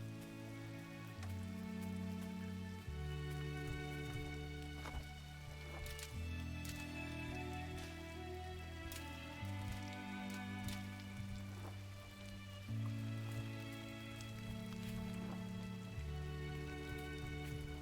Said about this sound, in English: The rain effect cuts out whenever you're underwater.